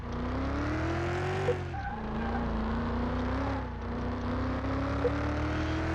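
A FMW Panther MK 1 drives a test track in Car Mechanic Simulator 2021. Its engine drones loud and steady throughout, with the pitch rising and dipping slightly as it revs. No one speaks.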